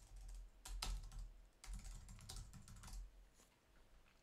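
Someone types a Google search on a computer keyboard, giving quick bursts of soft key clicks in two short runs with pauses, close and quiet.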